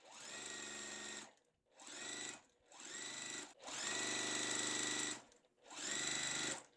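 A sewing machine stitches quilt block rectangles in five separate runs, each a steady close whir lasting about a second or more, with short pauses between them.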